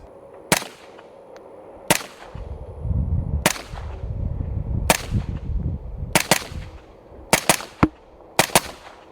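A 16-inch 5.56 rifle fitted with a Fireteam suppressor fires outdoors, with sharp muffled cracks spaced a second or so apart at first and then a faster cluster of shots at the end, over faint background rumble.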